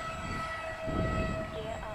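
An LX F22 twin-jet RC plane taking off, its engines giving a steady high whine with a rising rushing roar in the middle of the clip, heard from a short distance.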